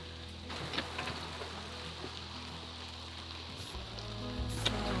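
Leaves and seeds drop from trees around an off-grid cabin, making a soft, continuous rain-like patter of many tiny ticks and rustles, with a low steady hum underneath.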